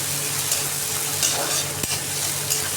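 Potatoes fry in oil in a pan for a bitter gourd curry, a steady close sizzle with light stirring scrapes and one sharp utensil knock partway through.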